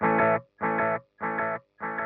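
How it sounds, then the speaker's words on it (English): Four evenly spaced delay-pedal repeats of the same distorted, wavering guitar tone, each echo sounding slightly rougher and more broken than the last. "a very exaggerated, very eerie delay"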